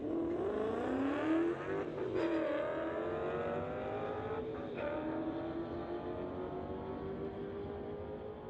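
A Porsche and a Mustang launch side by side in a street-legal drag race. Engines roar loudly and rise through the gears, with a sharp burst near the start, then fade as the cars pull away down the strip.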